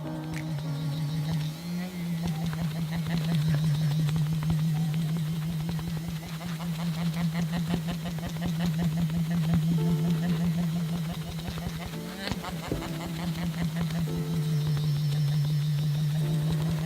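A Conair vibrating beauty sponge gives off a steady, fairly loud motorized buzz with a low hum that runs continuously and wavers only slightly in pitch.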